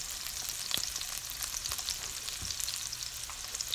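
Ginger sizzling and frying in a pan as the first step of a creamy chicken curry, a steady close hiss with occasional light stirring scrapes and no voices.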